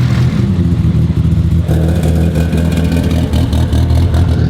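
A Nissan R34 GT-R with an RB26 engine, a 1740 HP street build, runs loud and close, holding a steady throaty drone with a rough pulsing texture and a shift in tone partway through.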